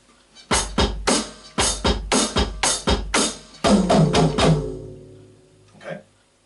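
A drum kit plays the pattern from a song: close, punchy snare and bass drum hits in a steady rhythm, then a quick rolling tom fill. A final lone hit rings out after a brief pause.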